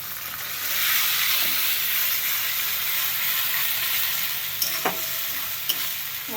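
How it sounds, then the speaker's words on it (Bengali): Onion and spices fry and are stirred in a pan for chicken curry, a steady close sizzle with a few sharp scraping clicks of the spoon, no talk. "মশলাটা দিয়ে ভালো করে কষাবো।"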